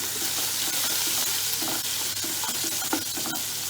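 Finely chopped ginger fries in a pan, a loud continuous close sizzle with light stirring scrapes throughout, no speech.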